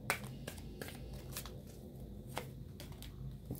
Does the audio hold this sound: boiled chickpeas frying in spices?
no